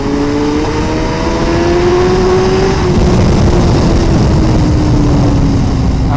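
A 2017 Suzuki GSX-R1000R sport bike at full throttle on a bumpy road, its loud, sustained engine whine climbing steadily in pitch under heavy wind rush, with no break in the roar.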